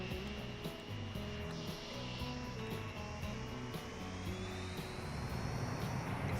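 A propeller airplane in Transport Fever 2 throttles up with a steady droning engine hum and a rising whine, sustained and fairly even throughout, with no talk.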